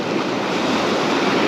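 Strong waves roll onto a beach in a dense, unbroken hiss of surf and wash, close and fairly loud, with no talking.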